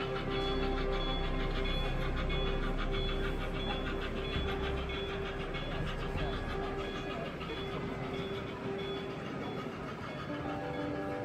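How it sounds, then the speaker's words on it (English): An HO-scale model steam engine hauls a heavy freight train along a model railway, giving a steady, continuous rumble and whirr with faint rail clicking throughout, moderately loud and unbroken. "you can currently see a steam engine making its way along with a very"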